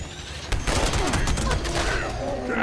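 A weapon fires in a rapid fusillade in the video game Fallout 76, loud and close, with shots crowding together into continuous bursts for nearly three seconds.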